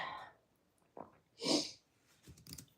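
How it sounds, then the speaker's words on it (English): A faint, brief sniffle from a podcast recording, a soft breathy intake through the nose set among quiet breaths and small mouth sounds. "remove that sniffle"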